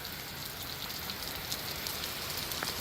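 Heavy rain from Hurricane Milton pours down in a dense, unbroken hiss of drops pattering on surfaces, steady and close with no voices.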